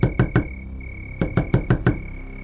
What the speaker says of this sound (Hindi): उसने कांपते हाथों से धीरे धीरे खटखटाया।